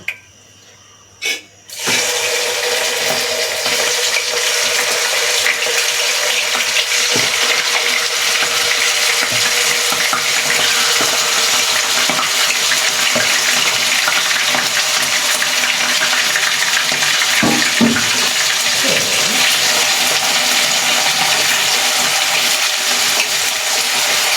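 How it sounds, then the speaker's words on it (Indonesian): Loud, continuous sizzling of diced chicken frying in hot oil, a dense crackling hiss that starts abruptly after a couple of brief knocks and never lets up. "Kita goreng dulu ayamnya. Ayamnya aku udah potong kayak gini ya, potong kotak-kotak dadu."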